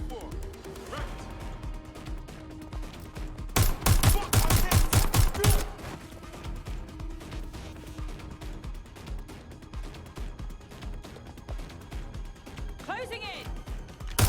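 Gunfire in the Watch Dogs: Legion video game, a dense rapid burst of shots for about two seconds in the middle, amid game ambience and voiced dialogue.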